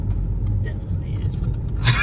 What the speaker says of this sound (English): you get used to the diesel noise